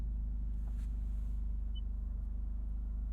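A 2023 Toyota GR Corolla Core's 4-cylinder engine idles with a deep, steady low rumble and an even pulsing throb, close and continuous, with no talking.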